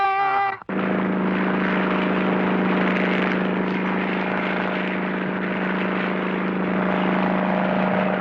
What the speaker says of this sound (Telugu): మీరెప్పుడైనా ఈ విమానం ఎక్కినారా?